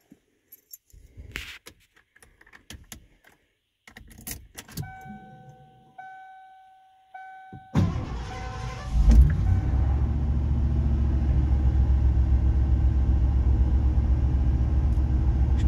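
A 1968 Ford XL convertible is approached with jangling keys and faint clicks, then the engine cranks and catches, settling into a loud, steady low idle that continues to the end.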